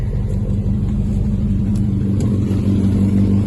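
A 1966 Humber Sceptre Mk2 engine with electronic ignition and a Weber carburettor idles steadily, a close, continuous low rumble that holds an even level throughout with no talking.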